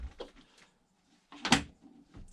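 Wooden cupboard door with a lock, handled in two bursts: a light knock and rattle early on, then a louder clatter of wood and latch, with a softer thump just after.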